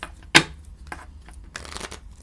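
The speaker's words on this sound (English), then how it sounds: "So I'm going to shuffle the cards." A deck of cards is shuffled by hand, a sharp riffle burst followed by softer flicks and a longer riffle, close and quiet with no talking.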